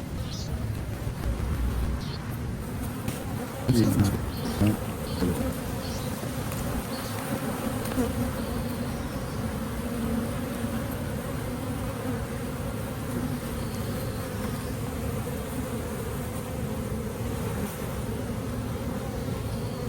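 Honey bees buzzing around hive frames during a colony inspection, a dense, steady, loud hum that fills the whole stretch, with a few brief handling knocks near the start.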